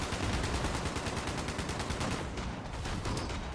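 Rapid automatic gunfire emptying a full magazine in Fallout 76, a dense, loud, continuous stream of shots with a short dip before the burst resumes.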